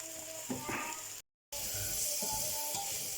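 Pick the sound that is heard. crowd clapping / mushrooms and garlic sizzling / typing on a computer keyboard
mushrooms and garlic sizzling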